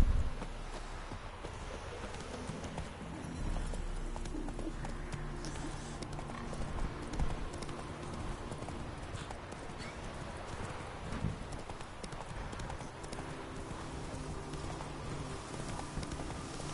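Rhythmic clip-clop of horse hooves walking steadily for a long stretch in The Witcher 3: Wild Hunt, with a faint background ambience and no talking.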